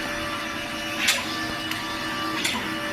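A large industrial inkjet printer runs with a continuous mechanical whir and hum, its carriage giving a few soft periodic whooshing passes, fairly close and steady without talking.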